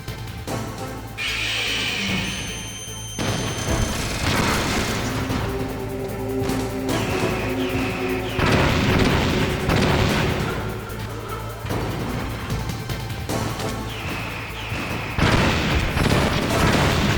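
Repeated heavy booms and blasts from Stinger missiles striking a radome in the Metal Gear Solid video game, loud and sustained over a steady game backdrop with several strong bursts spread throughout.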